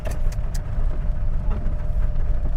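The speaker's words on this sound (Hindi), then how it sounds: "भयंकर ट्रैफिक हो रखा है।" Heavy jammed road traffic near Kharar on the Chandigarh route: nearby car engines idle and rumble steadily at close range, with faint passing vehicle noise.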